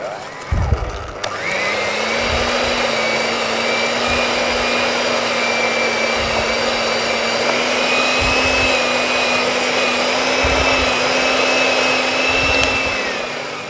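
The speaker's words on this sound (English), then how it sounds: "I find the easiest thing is to use an electric whisk" An electric whisk creams butter and sugar for a Victoria sandwich cake, a steady loud motor whine that starts after a brief clatter and runs continuously for the rest of the clip, with faint bumps from the beaters against the bowl.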